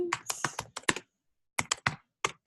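Quick bursts of computer keyboard typing, close and crisp, in two clusters of rapid keystrokes separated by a brief pause.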